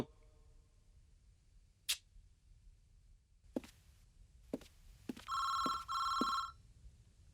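A telephone rings in two electronic trill bursts, loud and close, after a few scattered clicks and taps in a quiet room.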